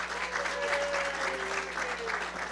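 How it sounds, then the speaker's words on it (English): An audience applauds a panelist at a hacker conference session: a faint, steady patter of clapping from a crowd, with a few voices audible underneath. "Because guys, give Mouse a round of applause"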